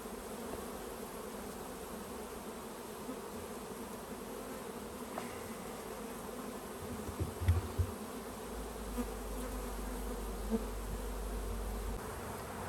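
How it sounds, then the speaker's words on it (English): A small honeybee swarm being installed into a hive in Michigan, with bees fanning at the entrance, gives off a dense, steady buzzing throughout, close and constant, with a few soft low thumps near the end. "We want those bees to go in."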